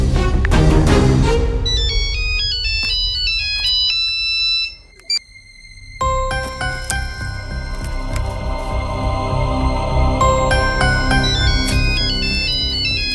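A mobile phone ringtone plays loudly indoors, a bright electronic melody of repeating tones that pauses briefly midway, then resumes and keeps ringing.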